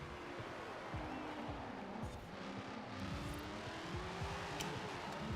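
A Dodge Demon in the racing game Forza Horizon 4 revs hard as its tires spin and slide, a loud, steady engine roar with rising and falling pitch sweeps and no talking.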